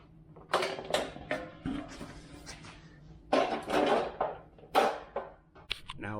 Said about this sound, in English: So I'm going to slide the second piece over this and put the wing nuts on.